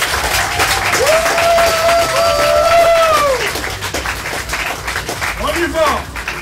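A crowd at a birthday and anniversary gathering claps loudly for a couple celebrating 37 years together, the applause running steadily under a sustained sung or called-out voice, then thinning into scattered claps with more voices near the end.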